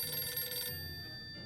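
A telephone in the video game 60 Seconds! Reatomized rings with a bright metallic trill that cuts off abruptly after under a second, followed by quiet background tones.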